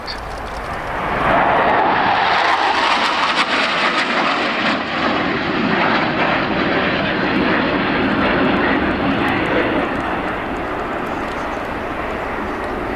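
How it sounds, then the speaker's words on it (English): Four jets in echelon formation sweep in at high speed to land at the Yeovilton air day, a loud, sustained engine roar that swells in with a sliding pitch sweep and rumbles on steadily. "Echelon right, all 4 of them in formation, coming in at high speed to brake and land."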